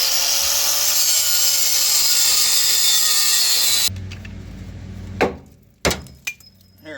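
A cutoff wheel grinding through rusty bolts on a Ram V10 truck's shock mount: a loud, steady high whine for several seconds, then it stops and a few sharp metallic knocks and bursts follow.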